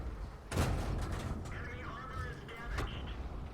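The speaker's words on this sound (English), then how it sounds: "And artillery is still going for it." Artillery shells crash down in World of Tanks during a P.43 tank battle, one heavy boom up close followed by scattered explosive rumbles over continuous combat noise, with speech-like game audio layered in.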